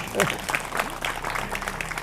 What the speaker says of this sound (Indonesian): Tepuk tangan dulu, Ge.